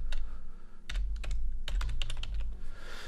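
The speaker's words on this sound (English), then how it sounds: "I'll try and type this quickly." Rapid bursts of keystrokes on a computer keyboard, close and clear, with short pauses between clusters of typing.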